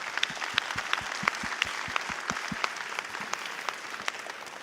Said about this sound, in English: we need to give you a round of applause again for that